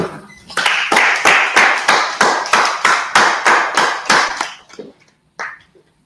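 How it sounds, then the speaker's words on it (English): A steady run of about a dozen rhythmic hand claps at an even pace, fairly close and loud, fading out with a couple of scattered claps at the end. "Clap it up."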